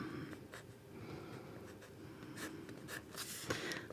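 Pencil sketching on paper while outlining iris petals, a series of soft scratchy strokes in irregular bursts, close and quiet, with no talk.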